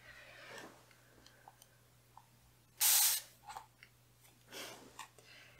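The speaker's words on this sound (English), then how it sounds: "if you keep pushing the sprayer thing down, it will just continuously spray" A handheld spray bottle of homemade hypochlorite disinfectant mixed in a small electrolysis maker gives one loud, sustained hissing spray burst, followed by a shorter second spray and small clicks of the trigger, with no talking.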